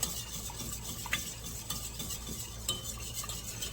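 A spoon stirs flour and milk in a pot for Southern-style collard greens, a steady soft scraping and swishing with occasional light clinks against the pot, close and continuous.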